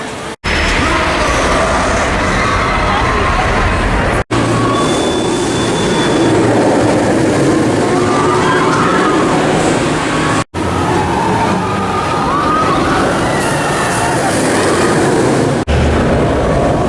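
Incredible Hulk roller coaster at Universal Orlando roaring along its track, a loud continuous rush of wind and rumbling wheels with rattling, broken by brief cutouts, with faint voices mixed in.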